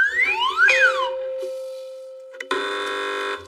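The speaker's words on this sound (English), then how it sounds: "Fingers on buzzers, teams." Electronic buzzers on a TV panel news quiz show: swooping chirpy tones, then a steady held beep, then a bright sustained buzz that cuts in sharply near the end.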